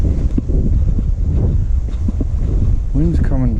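Wind gusting across open plains at a fishing spot, loud rumbling buffets hitting the microphone throughout, with a voice briefly talking near the end.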